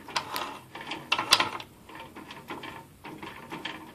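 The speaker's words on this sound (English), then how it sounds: "here we're testing the CNC machine with some real fine" A homebuilt CNC router of uni-strut and aluminum castings cuts fine lettering, giving off irregular whirring and clicking bursts of motor and spindle noise that start and stop in short moves, fairly quiet and close, with no talk.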